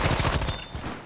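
Shotgun fire in Battlefield V, a loud cluster of rapid booming blasts packed into about a second, fading into a short tail.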